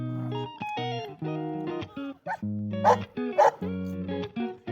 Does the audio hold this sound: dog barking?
yes